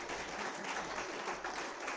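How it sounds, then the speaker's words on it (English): At a graduation ceremony, the audience gives a sustained, even wash of applause. Many hands clap steadily at moderate volume from a distance, with no talk over it. "Can we give a good applause for everyone?"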